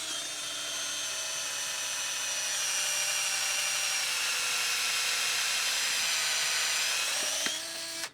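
A Panasonic EZ7421 7.2V pen driver spins at about 900 RPM drilling a hole, a steady high whine held for several seconds before it cuts off sharply at the end.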